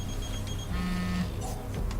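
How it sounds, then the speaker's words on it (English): A phone rings in Final Fantasy XV with repeated electronic buzzing tones over a low in-game background drone, moderately loud, with no speech. "Let's take a phone call."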